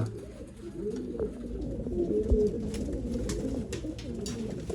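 Pigeons for sale in Bangalore coo in low, throaty, overlapping calls, steady and close, with scattered flutters and light rustling around them.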